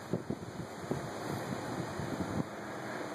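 Wind rushes steadily around a whaleback proa sailboat on the water, a constant broadband roar buffeting the microphone with uneven gusty thumps, close and alone.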